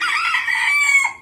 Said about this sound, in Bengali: মোরগে কিভাবে ডাক দিতেছে